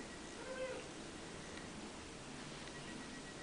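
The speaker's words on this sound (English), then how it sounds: "You gonna pet the kitty?" A pet cat gives a single faint, short meow early on against a quiet, hissy room background.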